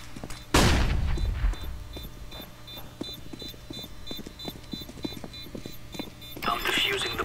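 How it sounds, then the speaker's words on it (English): Flashbang grenade thrown in Counter-Strike: Global Offensive, a sharp loud bang near the start followed by a fading ringing tail, then scattered gunfire clicks and beeps under game voice lines. "Deploying flashbang. Throwing flashbang."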